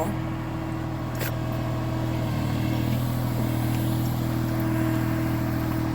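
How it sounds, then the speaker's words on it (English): A tractor with a backhoe mounted on the back drives forward down a steep dirt incline, its engine giving a steady, close, unbroken drone that holds for the whole stretch with no voices. "backhoe is on the back of the tractor. He will have to go down a fairly steep incline here."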